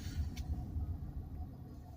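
Car engine hum and road rumble heard from inside a vehicle on a drive along Hannon Road near Wesleyville, Pennsylvania, a steady low drone with faint tire noise throughout, no talking.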